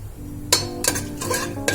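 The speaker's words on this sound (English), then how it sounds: "Give it a gentle stir." Whole cumin seeds, peppercorns, cinnamon, cloves, cardamom and star anise stirred gently in oil in a pan over low heat, giving a few short scraping clinks of a spoon against the pan over a soft sizzle.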